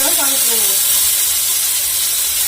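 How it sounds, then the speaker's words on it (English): Cumin seeds hit hot oil in a home kitchen pan, giving a steady, loud, close hiss of sizzling that holds without pause, with a brief voice at the start. "So the oil is hot now. So I'm just adding some cumin seeds."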